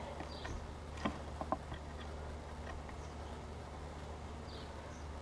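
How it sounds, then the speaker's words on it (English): A steady, low buzzing hum of many honeybees at a hive fills the background, continuous and even, with a few faint ticks and taps near the start. "Seem to be a lot more bees here."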